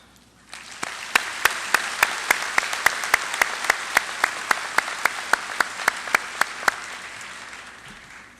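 A large commencement crowd applauds the police department at a 2017 high school graduation ceremony: a steady, dense wash of clapping swells and holds, with sharp, evenly spaced individual claps punching through the ovation before it slowly fades.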